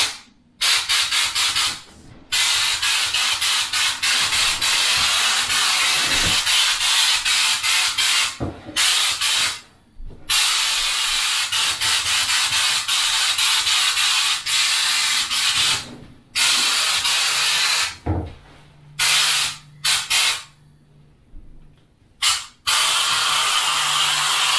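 Flake King FK50 spray gun laying candy apple red metal flake paint in long, loud, steady hissing bursts from close by, broken by short pauses between passes over roughly twenty-five seconds.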